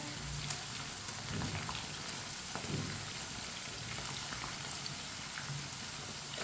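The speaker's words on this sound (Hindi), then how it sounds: "इसी तरह चम्मच चलाते हुए हल्का सा ब्राउन करेंगे चिकन को।" Chicken pieces browning in a hot pan for pakora, stirred with a spoon: a steady, close sizzle with a few soft spoon scrapes and clinks, no voices.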